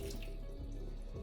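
Water runs steadily from a tap for a brief moment, a close, continuous splashing stream with no voices.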